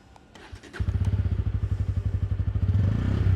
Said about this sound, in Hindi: एक बार इसकी एग्जॉस्ट साउंड सुना देता हूँ, इसको एक बार ऑन करता हूँ एंड आपको साउंड सुना देता हूँ